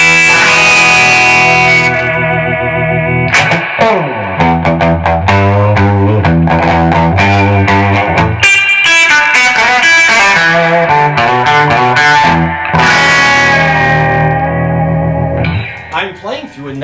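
A 1964 Gibson ES-335 electric guitar with factory Bigsby played through a 1964 Fender reverb unit into a Bassman or Bandmaster amp, loud sustained chords and picked runs with splashy reverb tails between phrases.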